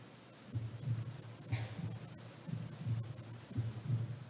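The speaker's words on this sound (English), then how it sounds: "Every single one of them has this heart beating." A human heartbeat thumps in a slow, steady lub-dub rhythm, roughly one beat per second, low and muffled, close and alone with no talk.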